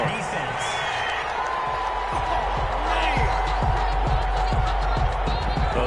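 Stadium crowd in a PS4 American football video game roars steadily in disapproval after a penalty flag, a dense continuous din with a commentator talking over it throughout.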